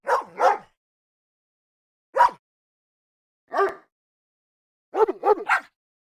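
Dog barking sound effect triggered by tapping a paw on a screen: sharp, close barks in quick pairs and singles separated by silence, about seven in total.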